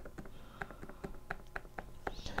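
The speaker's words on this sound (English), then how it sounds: "So now when I type in the keyboard" Typing on the keys of a recreated Sinclair ZX Spectrum keyboard, a quick irregular run of soft, close clicks and taps at low level.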